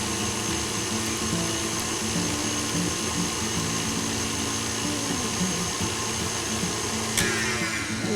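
An electric mixer works all-purpose flour and salt into pie crust dough for a banana cream pie, a steady close motor whir with a wavering grinding texture and a brief clatter near the end, alone without speech.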